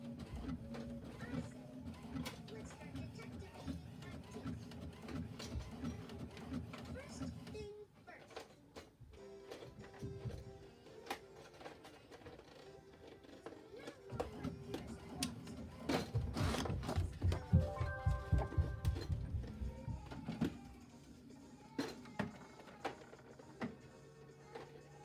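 A desktop printer runs through a print job for Cricut baby boy centerpiece images, its mechanical whirring and shuttling rising and falling over the stretch, with a louder pass of feeding and printing near the end.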